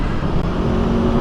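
A 2022 Aprilia Tuono V4 motorcycle engine holds around 5,000 RPM with a smooth, steady, dense drone, loud and close with no talk.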